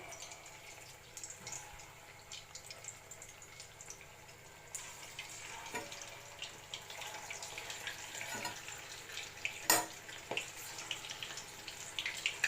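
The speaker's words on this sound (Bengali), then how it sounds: "বাকিগুলো আমি ভেজে নেবো আস্তে আস্তে" Cheese paneer balls fry in hot oil with a soft, steady sizzle and occasional crackles and clinks, faint and fairly close.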